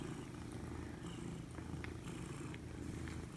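A mother cat purrs softly and steadily up close, a low continuous rumble with faint rustling on top.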